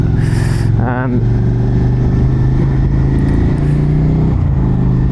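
A 2023 Suzuki SV650 motorcycle with an AshhMoto Black Widow exhaust runs loud and close with a steady engine drone and a quick rev near the start, while a person talks over it.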